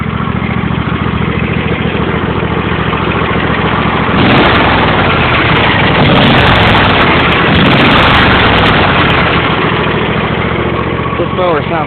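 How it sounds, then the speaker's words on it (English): A lawn mower engine on a cold spring start runs loud and close, chugging steadily before the throttle opens and it revs up to a higher, fuller roar that holds to the end. "This mower sounds good when you really press the throttle and it throttles up"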